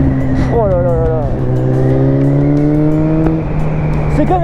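A motorcycle rides along a country road on Normandy's Route du Cidre near Cambremer. The engine hums loudly and steadily, with its pitch sweeping up and down as the rider shifts and revs, and a voice talks over it.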